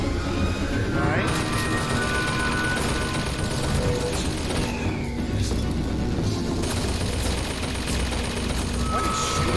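Rapid gunfire crackles continuously in a BioShock Infinite firefight, bursts of shots and booms layered densely over a loud, chaotic background for the whole stretch.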